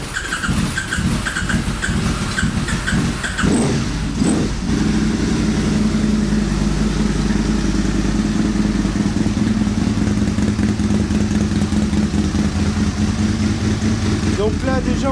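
Aprilia RSV 1000 sport motorcycle engine, a 2000 model, started with choke: a few cranking bursts catch into a loud, close, steady idle with a rumbling low hum, and someone talks over it.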